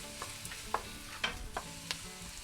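Garlic and onions stir-fry in a pan for leftover fried rice, giving a low, quiet sizzle broken by a few short scraping stirs of a utensil.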